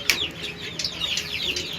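Domestic chicks and chickens on a rooftop bird farm give a run of short, high peeping chirps at close range, with a faint hum of background noise underneath.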